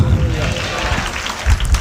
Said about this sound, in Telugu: అందరం చప్పట్లు కొడదామా ఒకసారి గట్టిగా